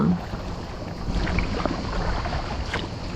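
A kayak is paddled toward a beach, with soft water swishes and splashes from the strokes over steady wind noise on the microphone, quiet and close.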